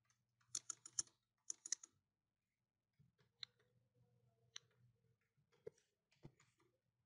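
Computer keyboard typing, two short quick bursts of crisp key taps, then scattered single clicks and presses against a faint low hum.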